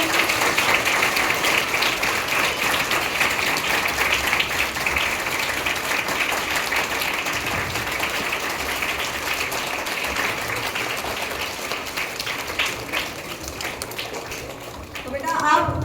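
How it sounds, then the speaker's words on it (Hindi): A school Children's Day event audience applauds in a sustained, even wash of clapping that holds steady for most of the stretch, fading slightly near the end, with some talk mixed in. "तालियों से इनको विदा करिए।"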